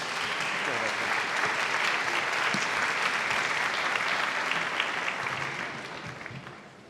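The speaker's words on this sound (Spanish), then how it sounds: "Lo recibimos con un fuerte aplauso." An audience at a talk on religious education gives a speaker a warm welcome with loud, sustained applause from many hands, which fades out toward the end.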